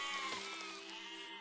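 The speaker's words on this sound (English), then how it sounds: "These sheep just want to die." Sheep in the physics-based siege game Besiege bleat in one long, loud, wavering cry that fills the whole moment, heard alone with no talk over it.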